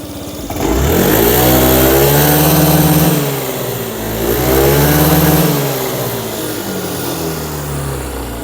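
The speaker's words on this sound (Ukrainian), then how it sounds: "Двигун працює без жодних нарікань." A Yamaha Jog AY01 scooter engine runs close by, revving up twice with rising and falling pitch before settling back toward idle. The engine is loud, with no voices.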